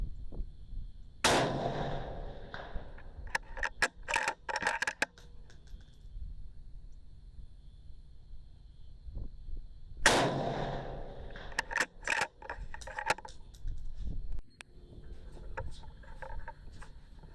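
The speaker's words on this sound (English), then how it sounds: "this shows how well that muzzle brake is working at doing what it is designed to do" Two loud rifle shots fired through an MPA DN5 muzzle brake, each a sharp close blast followed by clattering and rattling handling noises, with quiet gaps in between.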